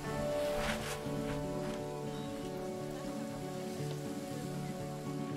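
Rain in the zoo-building game Planet Zoo, a constant hiss of drops on surfaces running evenly throughout, laid over steady game music and ambience.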